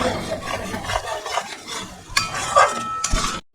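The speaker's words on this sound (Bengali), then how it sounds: "কাঁচা লঙ্কাটা যতক্ষণ না যায় ততক্ষণ আমি এটাকে নাড়ব।" Green chili and spices being stirred in a pan for mutton curry: a near, irregular scraping and rattling of a spoon against metal with a light sizzle underneath, running steadily before cutting off abruptly at the end.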